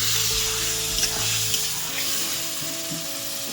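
Ginger-garlic paste with chilli powder sizzles loudly in a pan, a close, steady frying hiss with a few stirring clicks and no talking.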